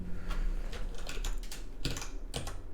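Rapid clacking of keys on a computer keyboard, irregular bursts of keystrokes heard close and alone for a few seconds.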